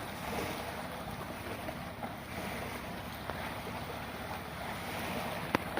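Sea waves on a shore beside a stockpile area at high tide, a continuous rushing wash with wind buffeting the microphone, steady and fairly close, with no speech.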